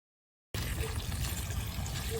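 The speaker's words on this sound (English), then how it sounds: "I get a hose, I come out here, and then I just make sure I water this thoroughly" A garden hose pours a steady stream of water into an Alocasia planter outdoors, a continuous close splashing and gurgling wash that begins abruptly after a brief silence and runs on unbroken.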